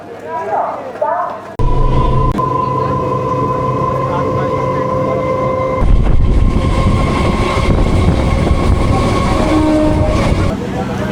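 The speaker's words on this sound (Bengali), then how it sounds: "এক্ষুনি জাস্ট ট্রেনের বাঁশি বেজেই গেছে, এক্ষুনি ট্রেন ছেড়ে দেবে জাস্ট কয়েক মিনিটের মধ্যে।" A crowded local train at Kakdwip station rumbles loudly and continuously up close as it departs, with sustained tonal whines over the heavy rolling noise.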